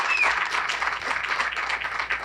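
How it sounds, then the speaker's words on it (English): Applause for Danny Rezko of DAC Development at a downtown Aurora apartment development event, a steady wash of many hands clapping at moderate distance with no voices over it. "Round of applause for Danny Rezko."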